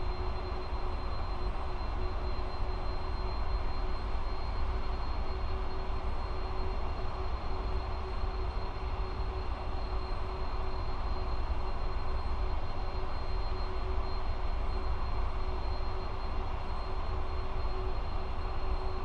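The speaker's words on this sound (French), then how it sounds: "on entend les moteurs qui s'emballent." Boeing 747 jet engines in a flight simulator game run as a steady, even roar with a faint high whine on top, constant for the whole stretch with no voices.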